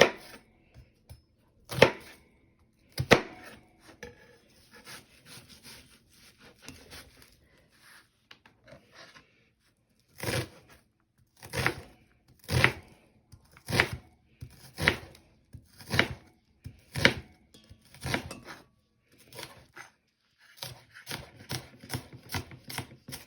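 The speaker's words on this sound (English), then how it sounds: "And now let's chop our red onion." Sharp knife strikes chopping red onion on a board, sparse at first then a quicker run of distinct, crisp chops, close and clear with no talk.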